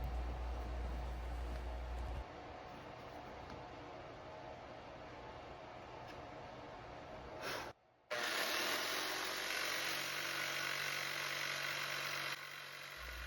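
A saw blade cuts through wood during a one-tool woodworking build: a loud, steady, hissing broadband roar that drops out for a split second midway, then resumes even stronger near the mic.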